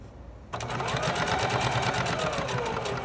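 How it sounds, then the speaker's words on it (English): A sewing machine stitches a quarter-inch seam along a pant fly. It starts abruptly after a short quiet moment, then runs as a loud, steady, rapid needle chatter up close. "So we're going to be sewing a 1/4 seam allowance"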